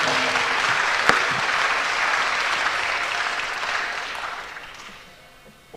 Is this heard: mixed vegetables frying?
no